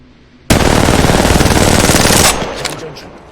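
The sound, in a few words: R9N gun firing rapidly in video game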